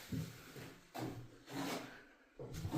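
Quiet, intermittent knocks and sliding scrapes come from the small magnetic-latch door on a 5x5 darts carnival game being opened, forming a few separate soft bursts.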